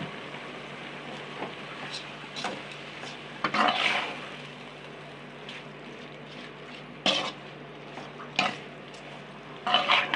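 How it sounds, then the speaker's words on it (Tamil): A spoon stirs a tomato chutney masala mixture in a pan, with soft scraping strokes and a few brief louder clanks against the pan over a faint background hum. "இதை கிளறி விட்டுட்டு நல்லா அது வேகிற வரைக்கும் நம்ம இதை கிளறி விட்டுக்கிட்டே இருக்கணும்."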